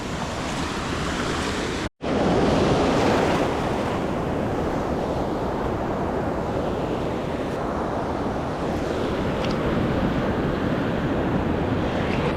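Ocean waves break and churn around a bodyboarder in freezing cold water near sunset, making a loud, continuous roar of surf mixed with gusty wind buffeting the microphone.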